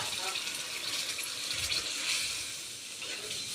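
Water from crushed ginger and garlic pours into a cooking pot of tomato curry, a steady splashing trickle close by that softens toward the end.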